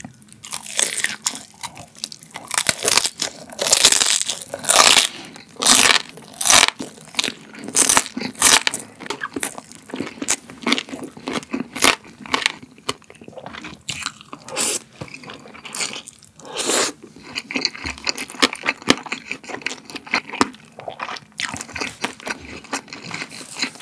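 Loud, close crunching bites into crispy roast pork belly skin, a rapid series of crackly snaps with brief pauses between, no talking.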